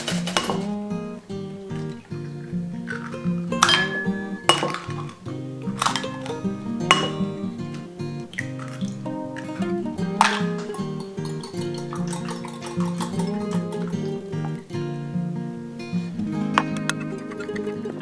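Flour, salt and three eggs are mixed for noodle dough in a bowl, with a steady run of clinks and scrapes as a utensil knocks against the bowl, close and busy, over a faint room hum.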